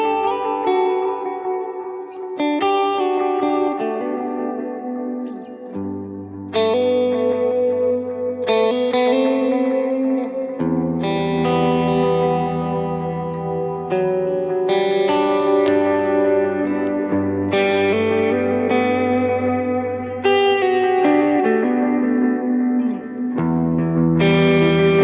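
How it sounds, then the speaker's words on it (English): Electric guitar chords and notes through an Orange Rockerverb amp patch on a Line 6 Helix, washed in heavy reverb and echo, each strum ringing out and overlapping, loud and continuous with no talking. "That's that reverb. That's that new dynamic. So reverb."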